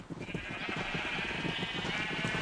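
Minecraft sheep on a sheep farm bleat in a steady wavering cry that runs nonstop and sounds near and clear, with no talking over it.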